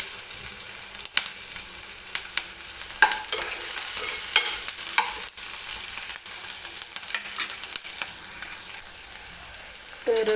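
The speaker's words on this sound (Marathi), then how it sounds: "थोडासा मऊ होईपर्यंत हा कांदा मी भाजून घेते तेलामध्ये." Onion frying in oil with garlic, green chili and ginger for a paneer curry, a steady close sizzle with sharp scraping stirs recurring throughout.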